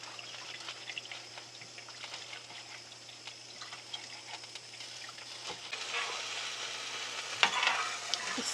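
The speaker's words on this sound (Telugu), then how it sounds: "సో ఇందులో పులుసు పోసేసుకుంటున్నా" Tamarind juice is poured into a hot frying pan of chili-seasoned greens for a curry, setting off a steady bubbling sizzle that swells louder near the end, with a few soft clinks from a spoon.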